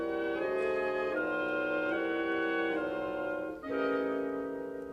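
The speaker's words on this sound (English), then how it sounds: "And together they make the bitonal sound like this." An orchestra plays Gershwin's bitonal chords, with two groups sounding chords in different keys at once. The sustained chords shift several times, a misty, woozy blend heard alone with no talking.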